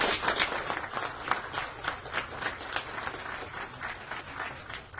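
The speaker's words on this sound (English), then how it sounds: "we can give them a round of applause" An audience applauds speakers at a power company rep's presentation, with steady, dense clapping from a room full of people continuing for the whole stretch at moderate loudness.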